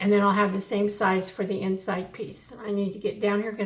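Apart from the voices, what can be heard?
None of the usual background noises is heard.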